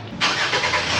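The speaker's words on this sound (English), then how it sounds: "And another bloody car." A car on a street in Los Montesinos sweeps past close by with a sudden rise into a loud, broadband engine and tyre roar that holds steady for the short moment.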